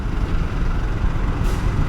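A truck loaded with steel passes on a Bangkok road, a loud broadband engine and tyre roar with a short hiss near the end, heard alone without talk.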